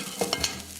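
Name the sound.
balsamic vinegar sizzling in a pan while deglazing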